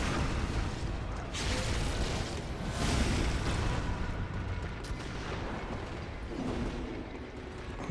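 Rapid gunfire and booming shots from gun-wielding enemies in Bloodborne crackle through a dense, noisy battle, loud and continuous with repeated bursts over several seconds.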